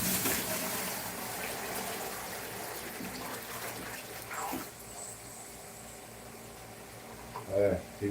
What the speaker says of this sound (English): it's a big bucket of water, Greg, your arch enemy.